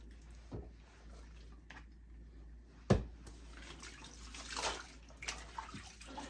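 Wigs being rinsed under running water, a soft, fairly quiet gush and splash with one sharper knock partway through and some uneven swells of water.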